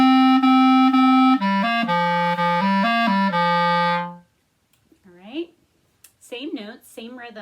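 Clarinet plays a short rhythmic passage of steady notes for about four seconds, then a person begins talking.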